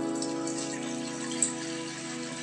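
Water, either well water or rainwater, poured into a cooking pot, a steady hissing splash running continuously at close range, with one brief louder splash partway through and no talking.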